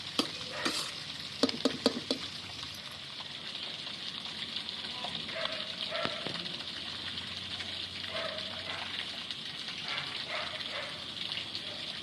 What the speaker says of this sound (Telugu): ఇట్లా అన్నీ కలుపుకొని మనం ఫ్రై అయ్యేదాకా ఉంచుకొని, కొంచెం ఫ్రై అయితేనే మంచిగా ఉంటుంది